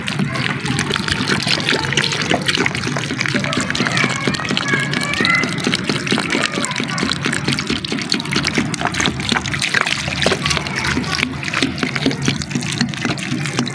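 Water pours steadily into red dirt mud, a continuous trickling and gushing fill with soft splashes that holds at an even level throughout.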